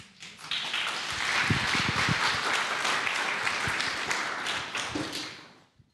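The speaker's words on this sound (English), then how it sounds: "big applause for Jonas" An audience at a tech meetup applauds a speaker with a sustained round of clapping. It swells, holds for several seconds and then tapers off, with a few close, sharp claps standing out.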